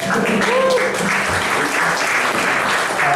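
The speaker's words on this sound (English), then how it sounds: "So let's give Charlie Whittingham a round of applause" Conference audience at a startup funding event in San Francisco applauding, a dense, steady wash of clapping from many hands throughout, close and moderately loud.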